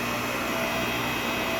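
Twin Busch low rise car lift with its electric motor running as it raises, a steady, even hum and whine held at constant loudness with no talk.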